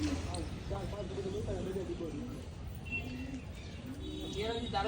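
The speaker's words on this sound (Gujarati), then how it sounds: "તો તમને બતાવું એના બધા કબૂતર." Pigeons at a breeder's home in Dhoraji coo in short throaty bursts amid a busy background of chirps and general noise, heard under a voice.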